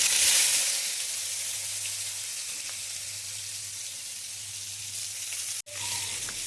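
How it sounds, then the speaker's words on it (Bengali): Pointed gourd (potol) pieces fry in a generous amount of oil in a wok over medium-low heat, giving a steady, close sizzle throughout with a brief break near the end. "কড়াইতে একটু বেশি পরিমাণ তেল দিয়ে মিডিয়াম টু লো হিটে পটলগুলোকে ভেজে তুলতে হবে"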